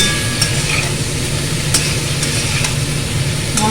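Banana and potato being stirred together with spices and poppy seed in a pan, a steady scraping and soft sizzling texture running continuously and fairly loud, with faint background hum.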